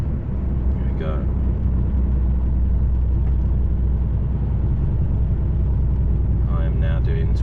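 An HGV truck's engine labours uphill in low gear, crawling at about 20 mph, a loud, steady low rumble filling the cab throughout, with brief voice-like tones rising over it near the start and end.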